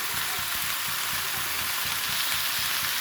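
Small mola fish frying in a well-heated wok with oil, a steady close sizzle throughout, continuous and fairly loud with no talking.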